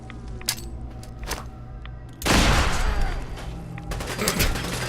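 A rocket and a grenade explode together in Fallout 4, a sudden loud blast halfway through after scattered distant shots, followed by a sustained rumbling roar and more crackling fire.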